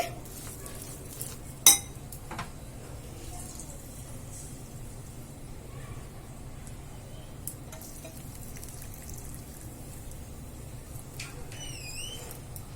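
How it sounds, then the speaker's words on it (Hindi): Mango pickle being mixed with a spoon after hot oil is poured in for a spicy shredded mango achar, giving a low steady sizzle with one sharp clink of spoon on vessel and a few faint scrapes. "उसके बाद हमने जो तेल गर्म करके रखा हुआ था उसे डाल देंगे और मिक्स कर देंगे।"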